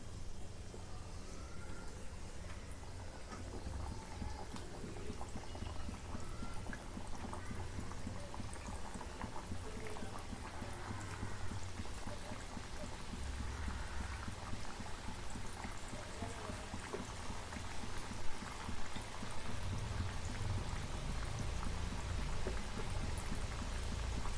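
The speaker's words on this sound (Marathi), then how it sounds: "आता कढईमध्ये तेल ठेवलेलं आहे तेल गरम झालंय गोळा टाकून बघितलंय आता हे कापण्या सोडून घेते" Pieces of kapnya dough frying in hot oil in a kadhai, a continuous soft bubbling and sizzling hiss that stays steady and fairly faint throughout, with no talking.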